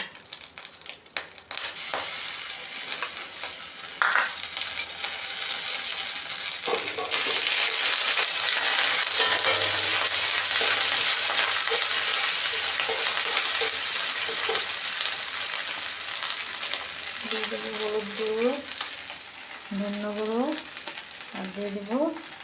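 Ginger paste and green chili paste fry in a pan with a loud, steady broadband sizzle. Sharp clanks come early on, and near the end a spatula scrapes and stirs in several short sweeps.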